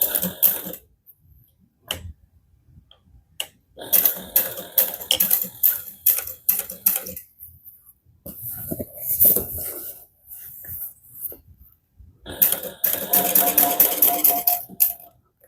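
A sewing machine top-stitching along a thick hobo bag seam, running in short mechanical bursts separated by quiet pauses, close and moderately loud, with no talking.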